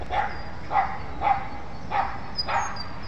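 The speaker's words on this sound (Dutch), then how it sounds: "het is maar een klein hondje" A small dog gives five short, evenly spaced barks. They are moderately loud and close, with a light whimpering edge, and no other sound is heard.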